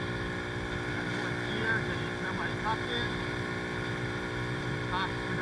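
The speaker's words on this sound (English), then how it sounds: "You can hear that little bike working hard." A Boom Vader 125cc Grom-clone motorcycle runs flat out at top speed, its engine droning steadily and loudly for the whole stretch with a dense layer of wind rush over it.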